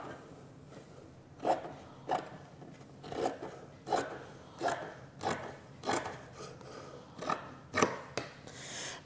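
Scissors snip through leather while a medicine bag is cut out, about eight crisp, evenly spaced cuts at close range against a quiet background with no talking.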